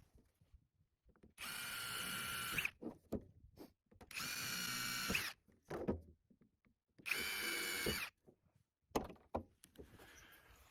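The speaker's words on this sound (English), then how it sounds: "once you have those holes drilled" A power drill drills holes in a fence post for farm fencing, running in three loud, sustained bursts separated by short pauses with light handling clatter between them.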